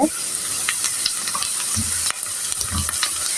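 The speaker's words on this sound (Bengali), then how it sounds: "পেঁয়াজটা আমি আরও ভালো করে ভেজে নিব" Onions and a small potato fry together in a pan until browned, with a loud, continuous, close-up sizzle broken by stirring scrapes and occasional spatters.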